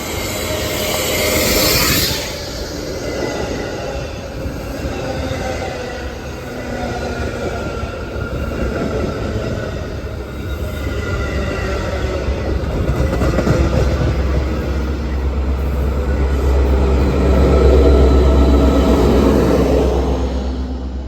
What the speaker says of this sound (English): in came inbound MDN 2608 with Metro 503